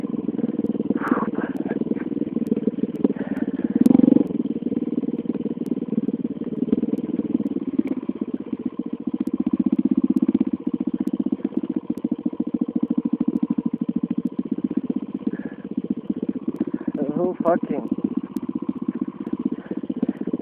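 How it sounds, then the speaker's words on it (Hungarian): A motorcycle engine drones steadily at low revs under engine braking, rising and falling slightly as it coasts, with occasional clattering knocks and no voices. "Csak motorfékkel, fickáim, csak motorfék."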